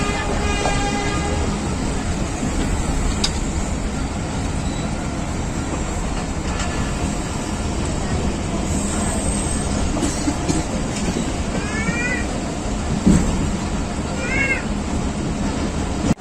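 The Hazara Express on Pakistan Railways pulls into Lala Musa junction at night, heard from on board as a loud, constant rolling rumble with faint squeals and a few clanks throughout.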